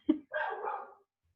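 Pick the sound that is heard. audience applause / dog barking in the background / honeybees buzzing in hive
dog barking in the background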